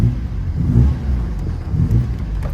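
A 1969 Alfa Romeo Spider Veloce drives with the top down, its mid-pitched engine revving and easing in short surges. The engine sounds close and fairly loud, with no talk over it.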